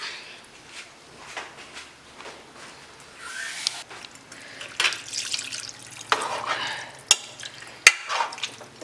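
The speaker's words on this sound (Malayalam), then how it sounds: "അല്പം വെള്ളം കൂടെ ചേർത്ത് കൊടുക്കാം." More water splashes into a pot of Malabar mutton curry as it is stirred, with trickling and sloshing bursts and a few sharp clinks close by.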